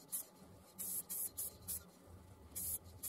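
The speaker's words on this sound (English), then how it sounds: "And this is the Hampshire Sheen Professional Black Gloss Lacquer." An aerosol can of Hampshire Sheen Professional Black Gloss Lacquer sprays a sycamore bud vase blank in a handful of short, bright hissing puffs with gaps between them, fairly faint against a low background hum.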